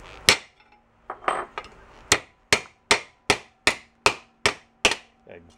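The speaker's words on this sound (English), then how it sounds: "I want to try to hammer that back down so the everything goes back in its place." A hammer beats a rototiller air cleaner back into place with a series of sharp metallic strikes, a few irregular blows and then a steady run of about eight evenly spaced hits, close and loud.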